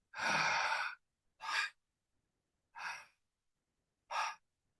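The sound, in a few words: relaxed exhale before a breath hold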